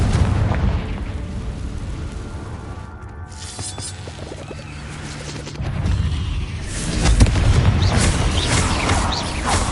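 A Confringo spell blast in Hogwarts Legacy booms out, rumbling explosive bursts that swell louder toward the end, heavy and close, with no talk.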